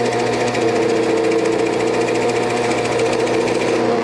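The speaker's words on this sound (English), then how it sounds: "So you want to do a little bit of drilling and then bring it back out." A drill press motor hums steadily and loudly while the bit chatters rapidly into wood for a toy top, one continuous run without pauses.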